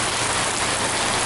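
Heavy rain pours down with wind over flooded streets in Rio San Juan, a dense, continuous broadband hiss of water striking surfaces, loud and unbroken, with no voices.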